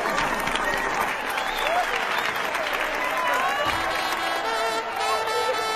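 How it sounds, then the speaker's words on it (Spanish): Dense, sustained applause from a large crowd, steady and loud throughout, with some cheering mixed into the wash of clapping. "¡Aplausos! ¡Aplausos!"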